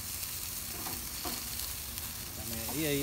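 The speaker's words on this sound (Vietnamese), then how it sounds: "Ồ, mình đang nướng thịt nha." Meat sizzling on a grill outdoors, a steady dense hiss and crackle that runs throughout, with a few faint tonal sounds near the end.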